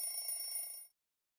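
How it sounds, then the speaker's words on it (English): A morning alarm rings in one continuous bright electronic trill, loud and alone, cutting off abruptly after under a second. "when you wake up in the morning at the sound of your alarm"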